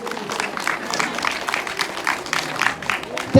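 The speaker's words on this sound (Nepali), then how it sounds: "कृपया उहाँलाई तालीले चाहिँ सम्मान गरिदिनु होला" An audience at a school prize distribution claps steadily for a student's result. The applause is moderately loud and continuous, with dense rapid claps that do not fade before the end.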